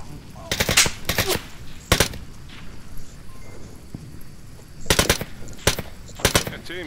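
Gunfire in Onward VR comes as several short automatic bursts, sharp and fairly close, with a quiet gap in the middle before three more bursts follow.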